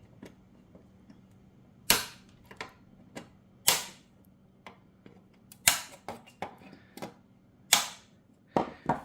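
Cutters snipping the protruding ends off hot-stapled plastic welding staples, about a dozen sharp, close clicks spaced irregularly over a quiet background.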